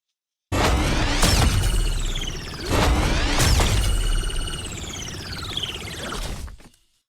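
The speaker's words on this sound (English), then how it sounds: "we're using this to create the closing sound of the little core of the robot as it closes back in" A layered mechanical sound effect with sharp metallic hits, descending whooshing squeals and whirring, building over several seconds before cutting off abruptly.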